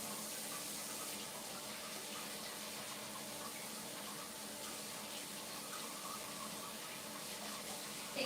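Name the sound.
water running from a tap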